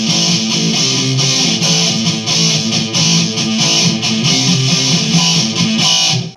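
Electric guitar with a scooped, mid-cut distorted tone, chugging riff with heavy lows and bright highs, loud and continuous with no talking.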